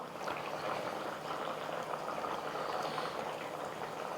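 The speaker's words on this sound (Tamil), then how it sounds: "நல்லா கொதிக்கட்டும் பாருங்கள் குழம்பு வந்து நல்லா கொதித்து நல்லா திக்காக வந்திருக்கு" Steady bubbling and simmering of a thick Tamil fish curry (meen kulambu) in a pot, a continuous soft gurgling hiss with no voices.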